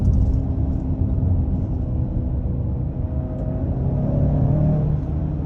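A 2022 Hyundai Santa Fe Limited with the 2.5-liter turbo engine accelerates hard in sport mode, a steady low rumbling engine drone heard from inside the cabin, with no talk.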